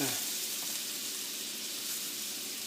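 Half a stick of butter and home-grown Tuscan blue rosemary sprigs sizzle steadily in a pan for a single steak, a constant bright frying hiss with no break from start to finish.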